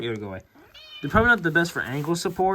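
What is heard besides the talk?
cat meowing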